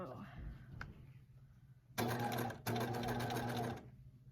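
A sewing machine sews a zigzag seam finish in two short close bursts with a tiny gap between them, loud and whirring, after a few words of talk.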